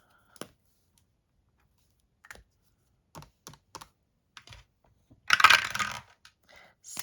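A 20-sided die being rolled: a few scattered light clicks, then one brief clattering tumble near the end, followed by faint taps as it settles. No voices.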